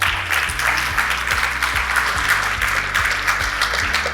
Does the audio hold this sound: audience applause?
yes